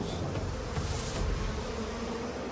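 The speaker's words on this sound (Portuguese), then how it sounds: "Em uníssono, as abelhas vibram os músculos de voo para gerar calor corporal." Japanese honey bees buzz in a dense, steady drone as they vibrate their flight muscles together to make heat, a continuous close hum with no voices.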